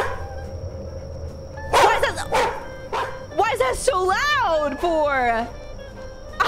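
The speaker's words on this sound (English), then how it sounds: "Why is it a stock audio file of a dog in my ear like that?" A stock recording of a dog plays loud and close: two or three sharp barks in quick succession, then drawn-out whining yelps that rise and fall, with a person speaking over the end.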